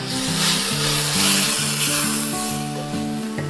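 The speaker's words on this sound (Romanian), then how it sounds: "adăugăm carnea prăjită și amestecăm ca să se încorporeze toate ingredientele și toate aromele" Fried meat stirred into softened peppers in a hot pan for a quick Mexican-style dish, a steady close sizzle with scraping stirs and rhythmic utensil knocks throughout.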